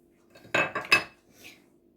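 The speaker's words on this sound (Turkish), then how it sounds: "Arkadaşlar kabımıza yumurtamı döküyorum." Eggs poured into a mixing bowl while making a banana cake, giving a few quick wet plops and clinks against the bowl close by, with no talking.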